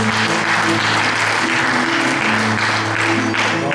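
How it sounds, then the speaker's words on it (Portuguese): Loud, dense applause from an audience at a book launch, steady clapping for a few seconds with no talk over it. "Nossas palmas são consolação, e eu de ouvi-las fico consolado"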